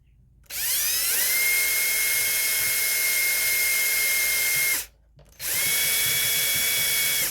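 A power drill with blunted bits whines loudly at close range in two long runs, spinning up to a steady high pitch, with a brief pause between them.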